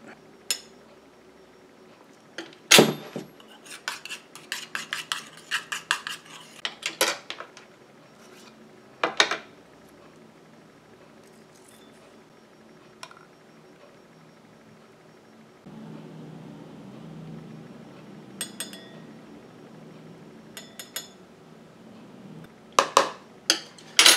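Drops for a calming dog spray being mixed in a container: scattered close clinks, taps and rattles in uneven bursts, with a quieter stretch of soft rubbing noise before a few final clicks.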